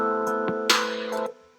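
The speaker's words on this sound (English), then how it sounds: "We're going to add a bit of mechanical noise, add a bit of wear, add some electrical noise, add some dust, a bit of scratch." A lo-fi hip hop beat with sustained chords and a soft percussive hit, given vinyl-style wear, dust, crackle and electrical noise, playing alone and fading out at the end.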